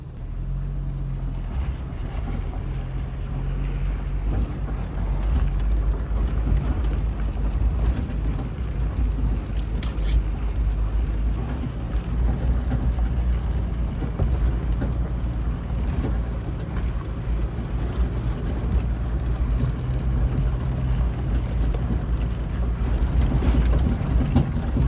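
A Jeep TJ crawls off-road up a bumpy, eroded slope in four-high, its steady low engine rumble and drivetrain drone running loud and continuous with wind buffeting the microphone.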